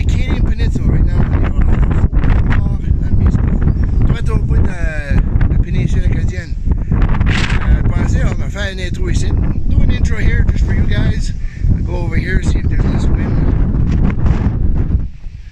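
Strong wind at a lighthouse at the tip of the Acadian Peninsula buffets the microphone in constant loud rumbling gusts, with people talking throughout.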